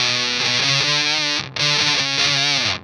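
An electric guitar drives an Everybody Hertz Ghozer Fuzz pedal, and two heavy, saturated strummed phrases ring loud and close, separated by a short break.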